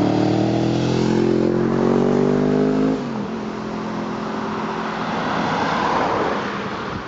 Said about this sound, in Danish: Der kommer sgu da en motorcykel der.